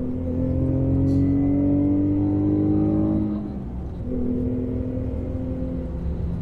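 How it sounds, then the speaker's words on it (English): Steady exhaust drone inside the cabin of an Infiniti G35 with test pipes and an HKS axle back, a deep humming engine tone that dips briefly as revs shift, then resumes. "This video is in-cabin noise, in-cabin drone."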